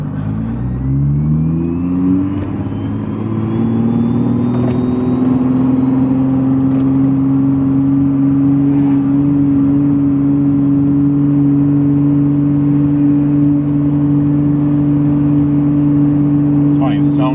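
Lexus IS300 engine heard from inside while driving, revving up through the first seconds and then settling into a steady, loud mid-pitched cruising drone.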